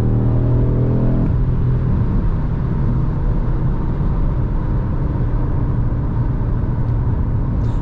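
A 2022 Audi RS3 sedan with a 400 hp five-cylinder engine accelerates hard, giving a loud, sustained engine roar with a rising harmonic tone early on that settles into a dense, continuous rumble.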